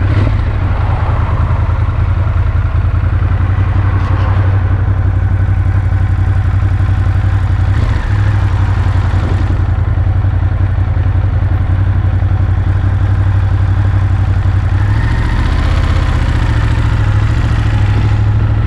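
A 2017 Ducati Monster 1200S rides through midday city traffic, its engine a loud, constant low rumble with a steady throb and wind noise, close and dominant throughout.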